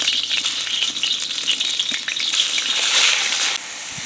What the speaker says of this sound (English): I want this oil to be really hot before I put any of the meat in here